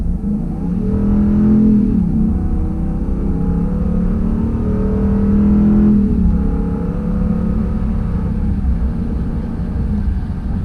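A 2019 Ram 2500 heavy-duty pickup's big engine roars as it accelerates, its pitch climbing, dipping briefly at a gear shift, then rising again, loud and close.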